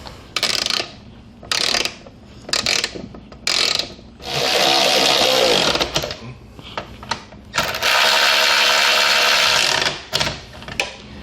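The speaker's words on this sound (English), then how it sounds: "we can tighten these down with a wrench or whatever" A 13 mm socket wrench tightens the mounting bolts on a Bestop HOSS hardtop hoist for a Jeep Wrangler, with bursts of rapid ratcheting clicks and long runs of whirring, close and loud with brief pauses between.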